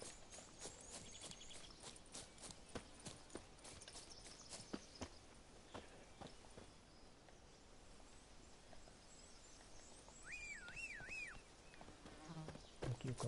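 Horse hooves trot in The Witcher 3 as Roach is ridden: a quick, fairly regular run of soft thuds over game ambience, with buzzing insect-like tones and faint background voices.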